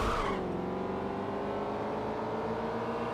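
A car engine in the Midnight Club 2 video game holds a steady, droning high rev after a brief initial burst, continuous and fairly close.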